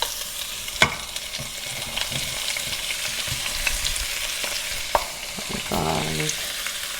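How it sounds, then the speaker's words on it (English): Onions and green seasonings hit a hot pot for curry chickpeas, giving a broad, steady sizzle with a few sharp clicks and a brief clatter near the end, close and fairly loud, no talking. "And now I'm going to put in my green seasonings. Some onions."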